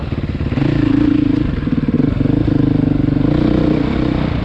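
2020 Beta dirt bike engine on a ride, a loud, close, rapid single-cylinder thrum that holds steady with slight throttle changes, no voice over it.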